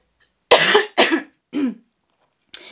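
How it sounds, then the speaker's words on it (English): Three harsh coughs in quick succession, close and loud, followed by the start of a fourth after a pause. "I'm sorry for coughing, but I've been sick."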